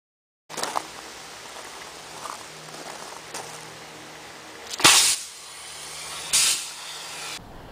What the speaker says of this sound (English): It's a knife with a CO2 cylinder to inject a huge ball of freezing gas.